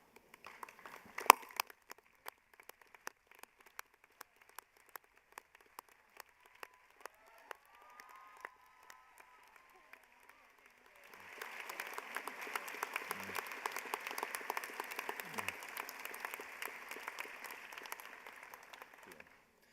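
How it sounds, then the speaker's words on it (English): Graduation ceremony audience in a hall applauding the faculty, scattered faint clicks and a brief voice at first, then a broad wash of many hands clapping from a distance that holds steady until the end. "can I ask you to stand so we can applaud your contribution?"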